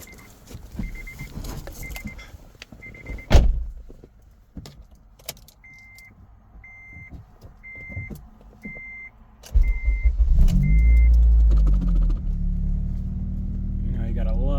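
Repeated chime beeps sound before a car engine fitted with an E85 flex fuel kit cranks and catches, then settles into a loud steady idle.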